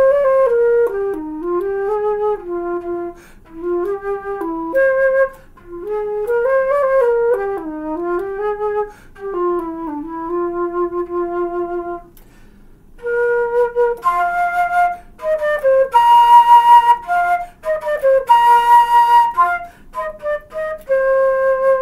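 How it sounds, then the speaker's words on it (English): A flute plays a clear, pure-toned melody of smooth, slurred phrases, close and moderately loud, with short pauses between phrases and a few breathier, airier notes near the end. "The flute is one of the ones that I teach."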